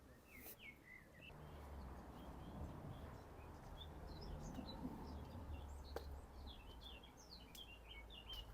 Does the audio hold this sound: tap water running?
no